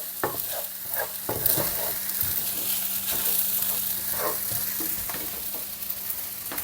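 Kimchi fried rice stirred with a splash of soy sauce in a hot pan, giving a steady close sizzle broken by scraping spatula strokes and a low background hum, with no talking.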